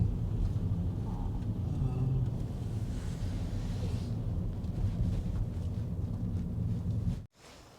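Steady wind roars and buffets against the microphone for several seconds, a dense low rumble that cuts off abruptly near the end, outdoors near a railway at a historic World War II power plant.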